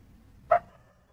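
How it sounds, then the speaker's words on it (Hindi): A dog gives a single short, loud bark close by, with quiet around it. "कुत्ता बहुत भौंक रहे हैं।"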